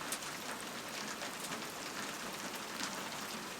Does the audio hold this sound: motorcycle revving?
no